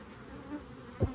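Black honey bees buzz at the hive, a faint, steady hum close by with a brief louder thump near the end.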